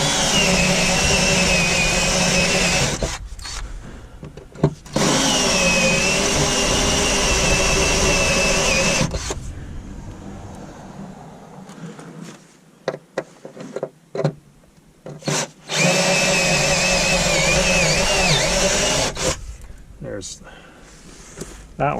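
A power tool grinds through the spot welds of a car's drive shaft support, running in long loud steady bursts with brief pauses and a quieter gap in between.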